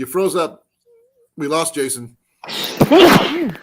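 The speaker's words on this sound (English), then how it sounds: "Oh, sorry, I sneezed on you." A single abrupt sneeze bursts out loud and close near the end, following short bits of people talking.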